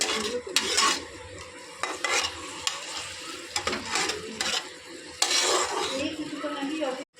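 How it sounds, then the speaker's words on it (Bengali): Ginger, garlic and onion pastes with chopped tomato, a dried chilli and ground spices sauté in a pan. Steady sizzling runs under repeated scraping stir strokes, with occasional clinks of utensil on metal. "এই তো মশলা কষানো চলছে।"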